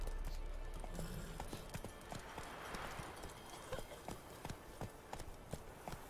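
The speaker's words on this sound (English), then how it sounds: "Whoa there, Roach." A horse gallops in the Witcher 3 video game. The rhythmic clip-clop of its hooves runs continuously over a broad background rumble of the game's sound.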